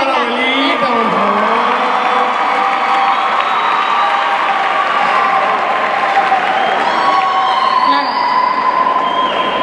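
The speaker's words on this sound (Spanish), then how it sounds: "Un aplauso a la abuelita," Studio audience in an auditorium gives loud sustained applause and cheers for a grandmother, a steady wash of clapping with voices and whistles layered over it throughout.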